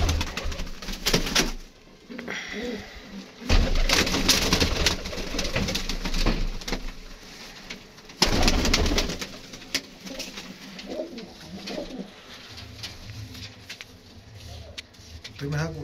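Pigeons cooing inside a factory loft, pedigree and blue pigeons, with soft repeated coos and wing flutters under loud nearby talk and background clatter throughout.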